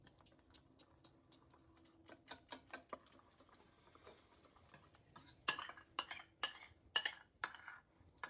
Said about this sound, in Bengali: এটাকে নাড়িয়ে নিচ্ছে।